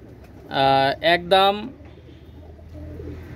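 Pakistani Kamagar pigeon, a single female, gives a couple of close, loud coos in a quick burst, then falls quiet against soft background noise.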